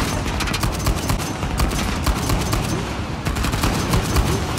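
Sustained gunfire from Uncharted: The Lost Legacy, a dense run of rapid, loud shots crackling continuously over a rumbling low background, with no voices.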